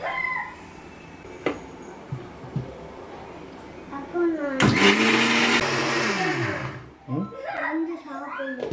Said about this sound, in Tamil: இந்த அளவுக்கு கொஞ்சம் ஓரளவுக்கு கொர கொரப்பாக அரைச்சிக்கிட்டா ரொம்ப நல்லாயிருக்கும்